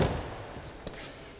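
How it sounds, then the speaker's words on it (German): The door of a Forster Vantasy 636EB campervan swings shut with a single dull thud, followed by a faint click, close by and brief. "ich mache die Tür hier wieder zu"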